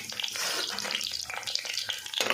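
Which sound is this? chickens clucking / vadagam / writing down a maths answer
vadagam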